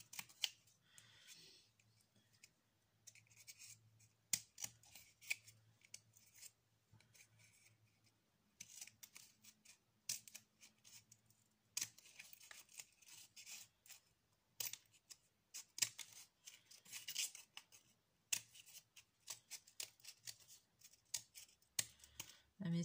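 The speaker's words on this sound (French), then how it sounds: "Mes ciseaux sont un peu grands." Large scissors snip and notch paper for a handmade Christmas tambourine craft, giving soft, irregular close-up cuts and rustles spread across the stretch, with a low hum underneath.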